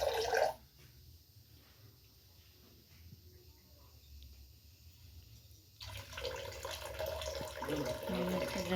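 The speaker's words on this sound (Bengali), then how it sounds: "দিদা জলটা ঢাললো" Water drains off a pot of rice cooked as a temple offering, a soft steady trickle and splash that runs for several seconds, then swells louder and more rushing toward the end.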